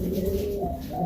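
Bali pigeon crossed with a benguk breed cooing close by, a steady low rolling coo with no voices around it.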